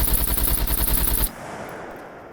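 Automatic gunfire in SCUM rattles against a level-four house wall, a rapid, loud burst of shots that stops abruptly after about a second, leaving a fading echo.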